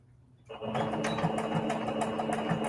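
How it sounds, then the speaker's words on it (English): A sewing machine back-stitching through quilted fabric at a heart-shaped pocket starts up suddenly after a brief quiet moment, then runs with a close, steady rapid mechanical whir and rhythmic needle clatter. "I'm going to do a couple of back stitches at this point too"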